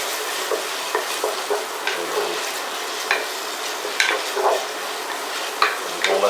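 Onions sizzle and fry in a pan with chopped garlic while a utensil stirs them, giving a steady frying hiss broken by repeated scraping and clinking strokes at an uneven rhythm.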